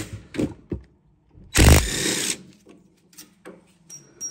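Power tool, likely an impact driver or ratchet, backing out two 10mm rear brake caliper bolts on a 2009–2018 Ram 1500 pickup: one loud, close burst of whirring lasting under a second, with faint clicks and handling noise around it.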